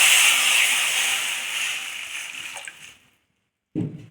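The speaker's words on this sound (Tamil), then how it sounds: "ஒன்றரை அளவுக்கு தண்ணி இதில் சேர்க்கணும்" Water is poured from a cup into rice flour for akki roti, a continuous splashing hiss that tapers off over about three seconds and ends with a short thump.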